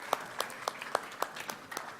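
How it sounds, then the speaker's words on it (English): An audience at a Europe Blockshow event applauds with sparse, separate claps landing in a loose rhythm, fairly quiet and moderately distant. "More applause, more applause."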